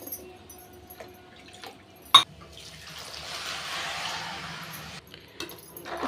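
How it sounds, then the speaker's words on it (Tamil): Water is poured into a cooker holding samba rava for a rava biryani, giving a soft, steady splashing pour that builds for a few seconds after a brief clink, fairly close and quiet. "ஃபைனலாக இப்போ 4 டம்ளர் நான் தண்ணி ஆட் பண்ணுறேன்."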